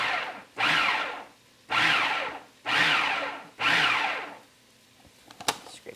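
Food processor pulsing chopped liver in four loud, even bursts of about a second each, separated by short pauses, followed by a few faint clicks and scrapes.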